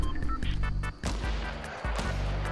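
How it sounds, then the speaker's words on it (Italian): Gunfire in the video game Fortnite, a few sharp, loud synthetic shots spaced roughly half a second apart over a continuous game soundscape, with no talk. "Eccolo, sento gli spari."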